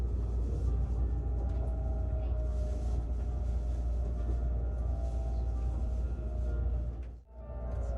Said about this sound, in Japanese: 大和八木駅を出発しました